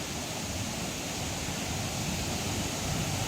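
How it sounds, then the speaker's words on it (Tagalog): Estrella Falls in Narra, Palawan roars steadily, a dense broadband rush of falling water heard close and loud without pause. "Here's the falls, Estrella Falls."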